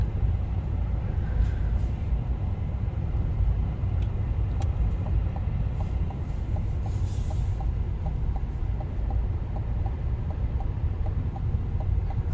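A 2024 GMC Sierra 2500 heavy-duty pickup with the Max Tow package and its exhaust brake on, driving at low speed: a constant deep engine rumble runs underneath, and the turn indicator's regular ticking is clearly audible above it for the second half.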